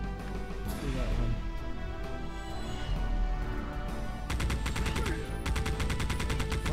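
Video game gunfire in Geist, continuous rapid shots layered over a loud game soundtrack, with a sharper burst of repeated automatic fire toward the end.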